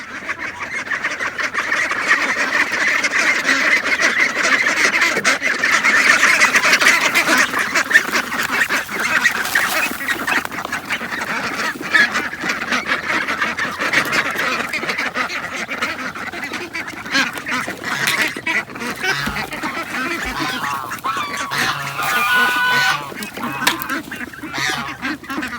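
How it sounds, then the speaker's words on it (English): A large free-ranging flock of ducks, including khaki Campbells, and geese on a small property quacks and honks loudly and continuously at close range, a dense overlapping chorus throughout. "These are all birds we either hatched ourselves or they were free."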